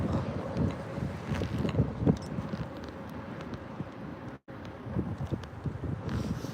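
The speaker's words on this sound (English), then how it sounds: "But I guess, to be honest, it does get windy" Wind gusts outdoors buffet the microphone in a steady low rumble with irregular bursts, moderately quiet and continuous apart from a brief dropout, with no speech.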